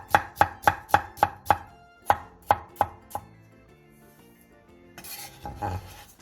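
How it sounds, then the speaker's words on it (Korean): A knife julienning potatoes on a cutting board gives a quick, even run of sharp close chops, a short pause, then a few more strokes before a softer rustle and clatter as the pieces are handled. "감자 3개를 얇게 채 썰어 주세요."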